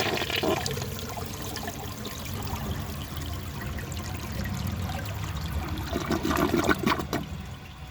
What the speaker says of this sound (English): going to give this another flush and see how much of that ash it can remove